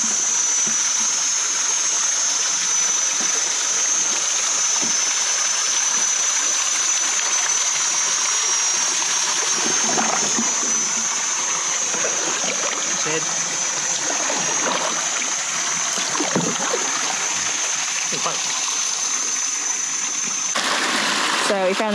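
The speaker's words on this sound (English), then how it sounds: "So we found this other little waterfall." Water from a small cascade rushes and splashes continuously nearby, with occasional faint, muffled voices under the steady roar.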